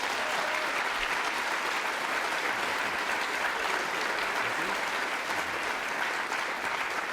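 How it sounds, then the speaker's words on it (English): Sustained applause from a large audience for the speakers at a talk, a dense even wash of clapping that holds steady and loud for several seconds with no voices over it. "let's have a non-random round of applause for our speakers"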